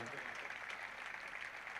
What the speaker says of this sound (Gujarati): એક વખત જોરદાર તાળીઓનો ગડગડાટ કરીએ બધા ભક્તો માટે